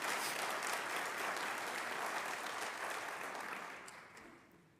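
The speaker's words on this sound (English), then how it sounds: "Please, clap." A large audience of educators at a conference claps loudly and steadily, the applause holding strong before gradually fading away near the end.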